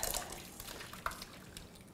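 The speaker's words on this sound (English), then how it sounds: "Is our strawberry sauce cool? Yeah, let's put that in the mesh strainer. Okay, so I'm going to pour it into here." Strawberry sauce pours into a mesh strainer, a soft wet trickle with faint drips and a small splash near the middle, quiet and close with no talking.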